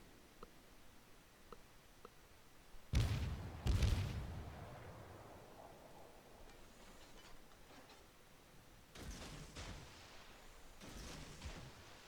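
Naval gunfire and shell impacts in World of Warships, with two heavy booming salvos close together, then rumbling decay and a later cluster of distant thuds and crackling hits, fairly faint overall.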